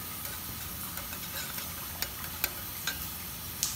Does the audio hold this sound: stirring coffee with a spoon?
yes